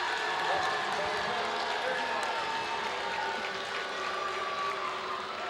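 Basketball crowd at a high school game voicing displeasure at an out-of-bounds call, a dense sustained roar of many voices filling the gym at an even level throughout.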